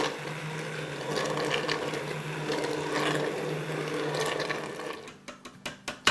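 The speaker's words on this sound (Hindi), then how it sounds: "ये मेरे पास हैंड ब्लेंडर है" Hand blender whirring through cooked daal in a home kitchen, a steady close motor drone with a churning wet texture that cuts out near the end into a few short bursts and clicks.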